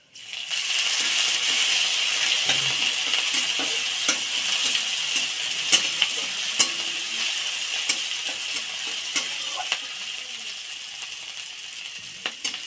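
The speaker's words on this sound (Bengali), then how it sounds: "একটু মশলাটা ভাজা ভাজা হয়ে গেছে।" Cumin, chili flakes and chopped ginger fry in a pan for vegetable chops, a close, steady sizzle with scattered metallic clicks and scrapes of stirring throughout, no voices.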